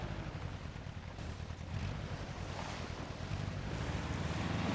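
An off-road truck in MudRunner's The Valley pushes through a stream, giving a steady rushing wash of water and low engine rumble that holds evenly without a break.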